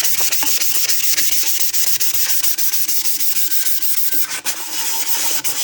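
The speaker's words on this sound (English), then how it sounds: "Sand your surface." A resin tumbler surface is scuffed with 220-grit sandpaper, producing a continuous close, gritty rasp of back-and-forth sanding strokes, steady and unbroken, without any talking.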